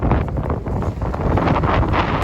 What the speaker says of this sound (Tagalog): parang may bagyo na, mga day, sobrang lakas ng hangin